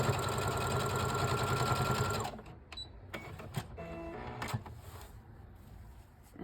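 A sewing machine stitching quilt blocks together runs loud and steady for about two seconds, then stops, followed by quieter clicks and handling sounds.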